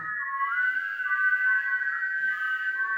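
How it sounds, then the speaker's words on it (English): Many people whistling together in sustained, overlapping tones, a steady chorus of high pitched whistles with no talking. "Can everybody please whistle?"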